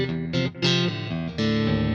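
Electric guitar played through amps with a short slapback delay, a series of sustained chords and notes that ring into one another with a quick echo, loud and steady, with no talking.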